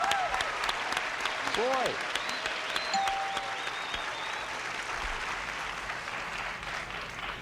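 Game show studio audience breaks into steady applause that carries through, with a buzzer-like tone and short electronic chimes over it and someone speaking briefly on top.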